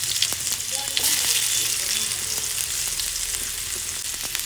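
Onion fries in hot oil in a pan, a dense, steady crackling sizzle heard close and fairly loud throughout, with occasional sharper pops and no talking.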